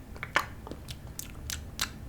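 Close, soft ASMR mouth sounds of biting and chewing, several short crunchy bites at an uneven pace over a low steady background hum, no voice.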